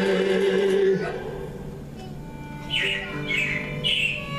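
A few bright, high robin chirps repeat in the second half, standing out over a steady background of music.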